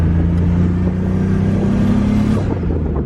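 A turbocharged BMW E30 accelerates hard with a loud, deep engine drone that climbs steadily in pitch, heard up close from inside the car.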